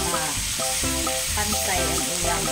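Chicken pieces fry and sizzle in a pan for pineapple chicken, with steady crackling and a few clinks and scrapes as the pieces are turned, close and continuous with no talk.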